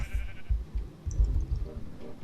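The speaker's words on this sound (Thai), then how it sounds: "ฟาร์มแกะ" Sheep bleating on a farm in Minecraft, several short repeated bleats close by in quick succession.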